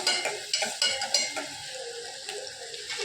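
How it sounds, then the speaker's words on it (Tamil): Onions sauté and sizzle in a pan while a utensil scrapes and stirs through them in quick, close strokes, with no talking. "நல்லா நிறம் மாற வெங்காயத்தை நல்லா வதக்கிக்கணும்"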